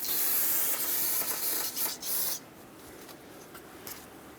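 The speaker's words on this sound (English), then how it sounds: "Spray a little bit of brake parts cleaner while I have this area open" A loud, steady aerosol spray of brake parts cleaner rinsing coolant from a 2015-2020 GMC Yukon XL 5.3L V8 engine hisses for about two seconds, then cuts off, leaving a quieter hiss and a couple of short bursts.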